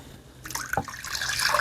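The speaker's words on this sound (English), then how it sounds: "And now I'm going to add my boiling water" Boiling water poured into a casserole dish with milk powder, a short gurgling splash of liquid that starts abruptly and runs on as a continuous trickling pour.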